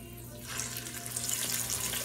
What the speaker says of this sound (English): Okay, it's sizzling.